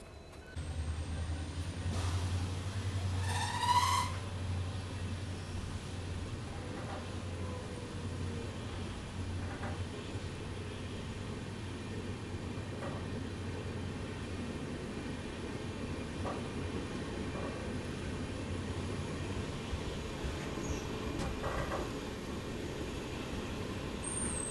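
Murudeshwar Express pulling into platform 2 of KR Nagar railway station at midnight: a steady low rumble of the train with faint clanks and a brief squeal early on, constant and moderately close.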